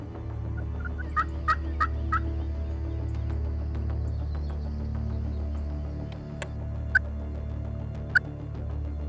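Several wild turkey gobbles ring out in short bursts, some closer and louder, others farther off, over a steady low rumble with no talking.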